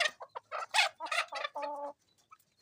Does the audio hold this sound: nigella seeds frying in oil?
no